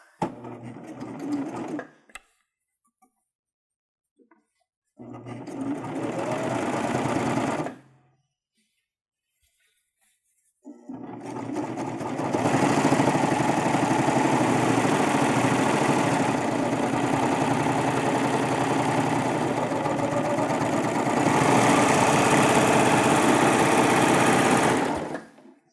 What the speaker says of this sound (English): we're just going to stitch it with a 4-thread overlock, just barely skimming